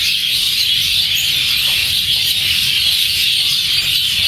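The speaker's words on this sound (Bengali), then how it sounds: "পাখি কিচির মিচির কারে কয়" A large gathering of birds, including sparrows, mynas, weaverbirds, parrots and egrets, chirps loudly and continuously in a dense, overlapping chorus with no pauses.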